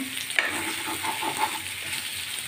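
Sesame seeds fry over a low flame in a pan, making a steady close crackling sizzle with a brief sharper pop near the start.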